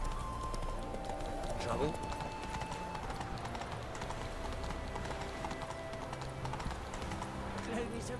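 Horse hooves clip-clopping at a steady gallop in The Witcher, a continuous rhythmic beat running under game sounds with a short spoken line over it.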